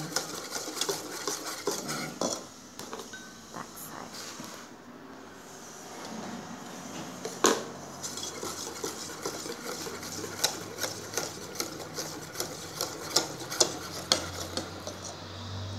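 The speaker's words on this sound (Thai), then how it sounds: "เวลาปั่นเราก็ปั่นมาทางเดียวกัน" Donut batter being mixed in a bowl as flour is added a little at a time, giving a steady whirring churn with frequent light clinks and scrapes against the bowl, close up and without talk.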